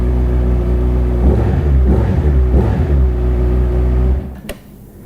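Small motorcycle engine running close by, blipped through a few quick revs before cutting off abruptly near the end.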